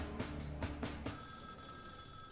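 Telephone bell ringing in quick repeated bursts, a few rapid trills that stop after about a second, leaving a faint lingering hum.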